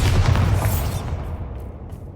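A Bombarda spell blast in Hogwarts Legacy: a loud, deep boom with a bright crackling burst that decays into a rumbling tail over about two seconds, heard on its own.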